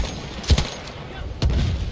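Gunfire in the Battlefield 1 video game, two muffled, booming shots about a second apart, heard from a distance behind faint chatter.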